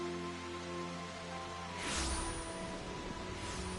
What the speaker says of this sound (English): I like that it's raining today in the game.